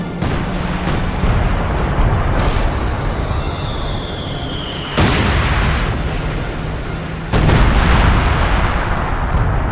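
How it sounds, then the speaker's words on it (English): A .50 cal machine gun in Company of Heroes 2 fires steadily at close range, a dense and continuous rattle that runs through the whole stretch with heavy low rumble and no voices. "Force firing the 50 cal, but it has smaller targets that would take longer to destroy."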